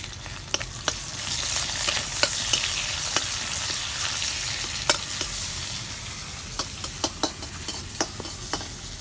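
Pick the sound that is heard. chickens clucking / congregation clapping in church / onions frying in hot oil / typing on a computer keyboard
onions frying in hot oil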